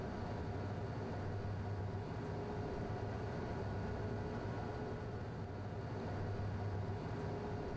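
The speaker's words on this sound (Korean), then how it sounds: "지나가는 기차 소리와 눈발만 한가로운 이 작은 역은 논산 근처에 있는 연산역입니다." A train rumbles past Yeonsan Station, a small snowy rural station near Nonsan, as a low continuous roar that holds steady and fairly distant throughout.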